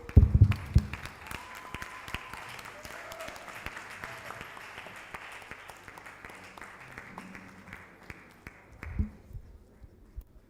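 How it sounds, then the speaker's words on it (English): A hall audience gives the Vice Chancellor a round of applause at a Women in Chemistry event. The clapping is sustained and fairly close, then thins out and fades near the end, with a few stray voices underneath. "Please a round of applause for the Vice Chancellor"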